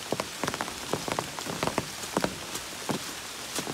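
Rain pours steadily onto a soaked Appalachian Trail, a constant hiss with scattered nearby drops pattering and splatting irregularly, loud and close, no voices.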